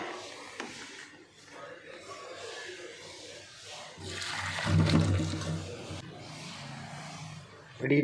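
Boiled water drains from a pot, pouring and splashing into a sink, starting as a trickle and building to a gushing rush, with faint kitchen clatter around it.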